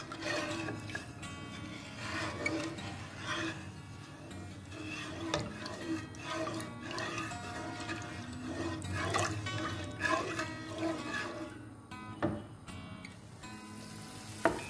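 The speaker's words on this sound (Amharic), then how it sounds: "ይሄው ስኳሩ በደንብ ተንተክትኳል።" Sugar and water syrup, one glass sugar to two of water, boiling steadily in a pot for a sweet fried dessert, giving a continuous bubbling, watery hiss with small pops and clinks throughout, fairly close and moderately loud.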